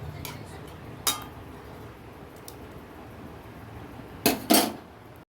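A lid set onto a pot of chicken curry, a few brief metallic clinks and clatters spaced apart, the loudest pair near the end, over a quiet kitchen background.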